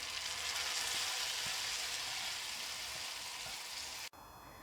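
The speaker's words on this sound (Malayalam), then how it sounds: "അതിലേക്കാണ് ഞാനിപ്പോൾ ഇത് കാച്ചിയത് ഒഴിച്ചു കൊടുക്കുന്നത്." Hot ghee tempering poured over green gram curry in a serving bowl, a dense, loud, continuous sizzle and crackle that holds steady before cutting off abruptly near the end.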